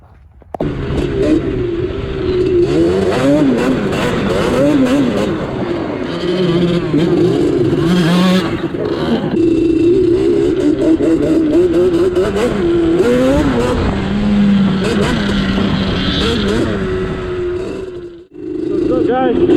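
A bored-out Yamaha Banshee ATV engine revs loud and close, its raspy two-stroke buzz rising and falling continuously for nearly the whole stretch before dropping off briefly near the end.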